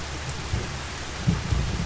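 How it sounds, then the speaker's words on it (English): Steady rain in Farming Simulator 25 hisses in a continuous wash, with a few low rumbles underneath and no voices. "It's pissing down with rain."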